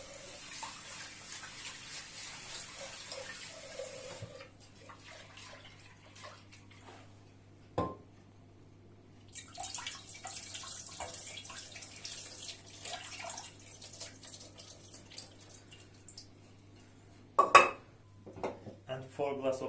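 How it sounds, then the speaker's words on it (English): Red lentils are washed in water. Splashing and trickling water comes and goes, with clinks of a pot or dish, a low steady hum, and occasional sharper knocks near the end. "I will wash the lentils."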